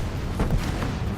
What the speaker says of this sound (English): Look at these lights, explosions.